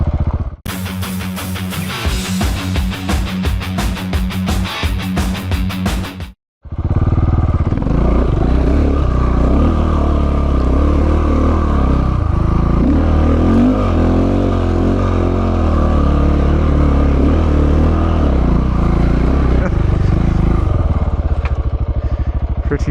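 An off-road motorcycle climbs back up a hill in the Mary Valley, its engine first rattling in a sharp staccato, then after a brief gap droning loud and steady with wavering revs as the bike labours upward.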